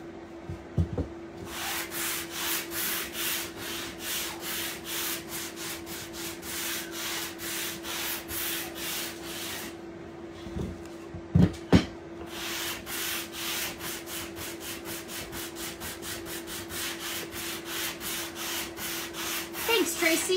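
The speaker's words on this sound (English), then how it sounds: "So now, I'm thinking we will sand this a little bit." A small piece for a fabric acorn craft being hand-sanded, with quick, regular back-and-forth strokes sounding close and steady for most of the stretch, pausing briefly midway with a couple of sharp knocks before the sanding resumes.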